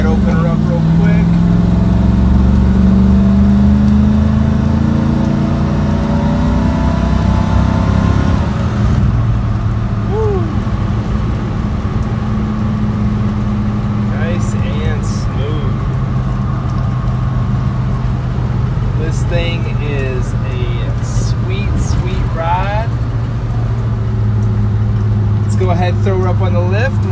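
A 1967 Plymouth Barracuda engine drones loudly and continuously, rising and revving as the car accelerates, with people talking over it throughout.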